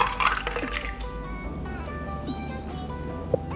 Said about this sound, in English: Now I'm just gonna pour this into the glass.